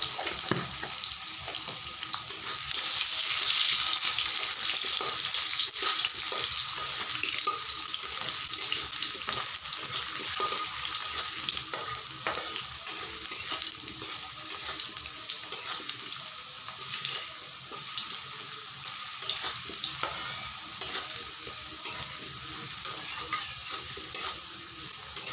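Potatoes fry in a pan with a continuous close sizzle and scraping stirs, along with some watery splashing, loudest early on and no talking.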